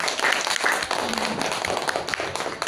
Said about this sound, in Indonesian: Kalau sepakat silakan tepuk tangan.